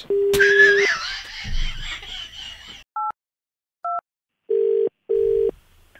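Electronic telephone tones after hanging up on a radio call: a short steady tone, then two brief dual-pitch beeps and two longer beeps in quick succession, with a faint crowing sound near the start.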